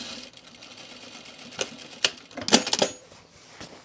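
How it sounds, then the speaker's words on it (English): A serger sewing a rolled hem, its motor whirring in short uneven bursts of stitching with a few sharper clacks, close by and fairly quiet, with no talk. "home sewers call it the rolled hem on the serger"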